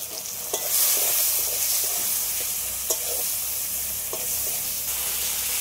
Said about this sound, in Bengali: টমেটোটা ভাজতে ভাজতে টমেটোটা গলে গেছে